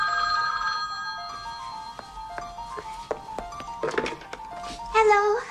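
A telephone rings with a bright electronic trill, repeating steadily and loud at first, then fading as other sounds and a brief voice come in near the end.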